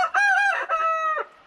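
A single rooster crows nearby, a loud, harmonic two-part call lasting just over a second, with no other sounds around it.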